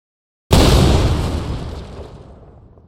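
A single loud explosion spawned in a video game engine bursts suddenly after a brief silence, then rumbles and decays over a couple of seconds.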